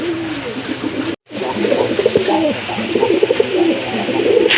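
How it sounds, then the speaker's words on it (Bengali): Close, loud fancy pigeon cooing in rolling throaty phrases, broken by a brief moment of silence, then continuing busily to the end. "আরেক জোড়া কবুতর দেখেন, খুবই অ্যাক্টিভ কবুতর, খুবই ডাকে"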